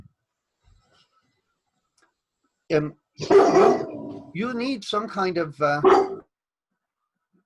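A dog barks a few times nearby indoors, the short sharp barks mixed in with someone talking.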